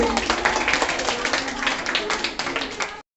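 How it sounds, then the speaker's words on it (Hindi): Audience applause for guests at a 2021 Republic Day function: dense, steady clapping from many hands that holds for about three seconds and then stops abruptly. "हमारे सभी मेहमानों के लिए जोरदार ताली बजाएंगे।"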